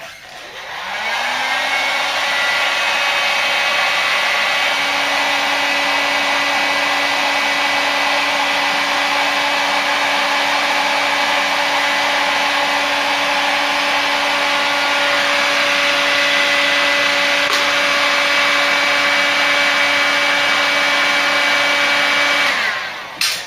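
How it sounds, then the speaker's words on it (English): A heat gun blows hot air steadily at close range to shrink white heat shrink tubing, a loud continuous whirring roar with a faint tonal whine that runs unbroken for over twenty seconds before cutting off. "Let's plug the heat gun in."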